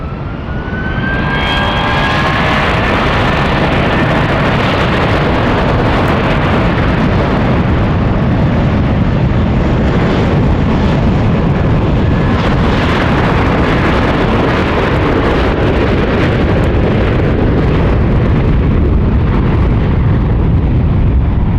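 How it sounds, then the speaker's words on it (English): A NetJets business jet arriving at SFO from Houston roars loudly and steadily overhead, its broad engine rumble and hiss sustained throughout with a faint rising whine early on. "the exec jet operated by NetJets flying in from Houston"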